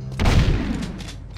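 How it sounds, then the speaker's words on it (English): Rapid fire from an upgraded gun in Jak II, a dense burst of loud shots blurring into one sustained blast that fades over about a second, with no talking. "so this can just shoot faster now"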